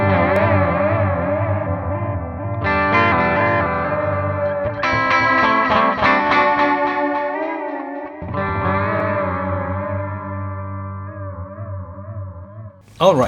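Sustained electric guitar notes smeared by an Eventide Rose delay pedal, with repeating echoes and wobbling modulation layering into a washy, swelling texture, no voices.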